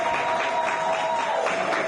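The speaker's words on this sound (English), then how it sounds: "we'd like to give a round of applause to our footballers" An audience at a school graduation ceremony applauds footballers for a third-place finish, with brisk, even clapping held throughout at moderate volume.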